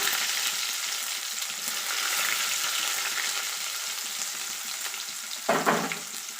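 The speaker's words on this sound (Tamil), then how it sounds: "கருவேப்பிலையும் வெங்காயத்தையும் இதில் ஆட் பண்ணிக்கோங்க" Curry leaves and onions fry in hot oil for a crab pepper fry, a continuous dense sizzle close by that flares into a brief louder spit near the end as more goes in.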